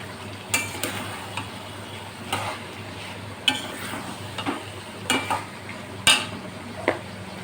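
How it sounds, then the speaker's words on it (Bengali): Ash gourd pieces stir-fried in spice masala whose oil has separated, giving a low constant sizzle broken by repeated scraping and clinking strokes of a spoon against the pan at irregular intervals, fairly close. "এবার আমি চাল কুমড়োটা দিয়ে ভালো করে মশলাটা কষিয়ে নেব।"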